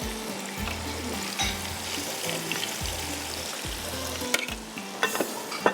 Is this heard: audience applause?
no